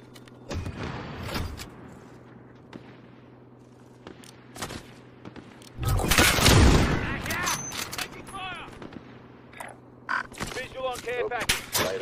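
Gunfire bursts in the video game Warzone, a loud volley of shots rising in the middle over game sounds, with a player talking over it.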